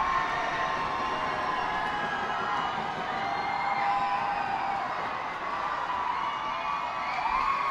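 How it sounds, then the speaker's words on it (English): A big crowd roars at a minor-league baseball game at FirstEnergy Stadium in the top of the ninth, Harrisburg Senators against Reading Fightin Phils, a steady wash of cheering and whoops that holds loud throughout. "The crowd is roaring here at FirstEnergy Stadium"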